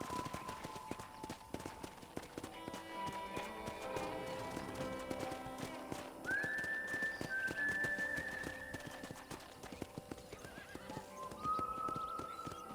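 A horse in the video game Red Dead Redemption trots with a steady clip-clop of hooves, joined by a neigh and occasional whistled tones over a busy game soundscape.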